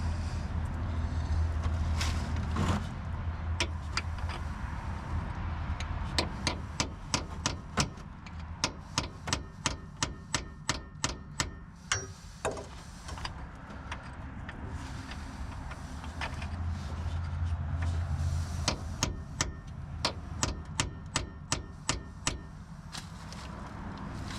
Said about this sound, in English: Let's try the cold chisel.